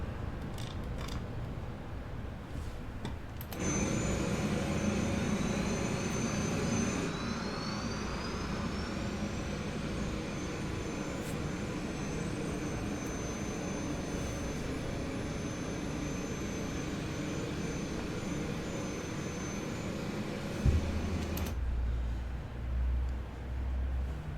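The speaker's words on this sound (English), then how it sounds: "Okay, engines 1 and 2 start." Engines 1 and 2 of an Emirates Airbus A380 spool up, a steady broadband roar with a thin rising whine layered on top that holds for about twenty seconds before settling into a lower rumble.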